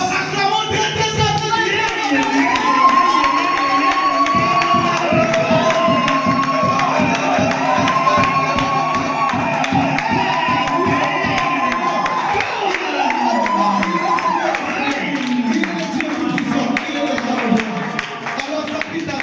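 A church congregation cheers and acclaims loudly and continuously, a dense crowd roar with shouts and rhythmic clapping throughout, and voices rising over it near the end.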